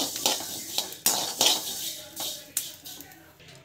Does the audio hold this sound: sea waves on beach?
no